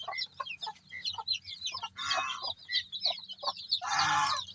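Rhode Island chickens cluck and chatter in a backyard farm pen, a run of short, near clucks with two louder bursts of squawking, no talk over them.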